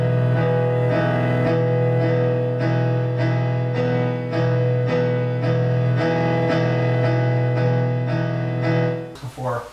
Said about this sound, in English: You're going to hit them multiple times.